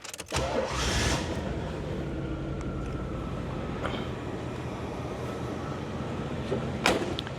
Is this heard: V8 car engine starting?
yes